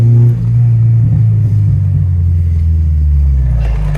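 Honda Civic Type R EP3 accelerating hard in VTEC, heard from inside as a loud sustained engine drone with deep rumble that holds steady and rises slightly near the end.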